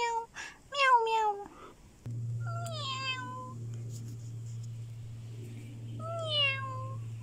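A cat meows several times, high and drawn-out calls in short bursts, near and clear over a steady low hum.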